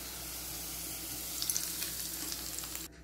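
Fried onion and vadagam tempering sizzling as it is poured into spinach gravy in a kadai, with a steady hiss and soft crackles that cut off abruptly at the end.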